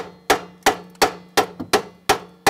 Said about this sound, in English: If you're doing a lot of hammering, I think you should use earplugs.